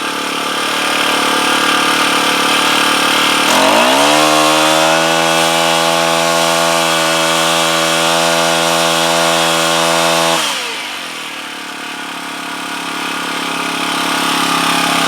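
Small gas engine of a Rhino Multi-Pro post driver running close and loud, revving up into a high steady buzzing whine for several seconds, then dropping back to a rough idle.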